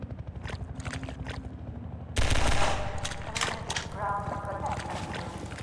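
Rapid, snappy gunfire from the video game Half-Life bursts in loudly midway, following a stretch of rhythmic background game noise, with several sharp shots scattered afterward.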